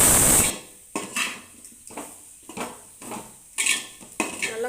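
A metal spoon scrapes and clanks against a pan while chili powder is sautéed in oil, giving a series of sharp, close scraping strokes in an irregular rhythm after a brief louder opening burst.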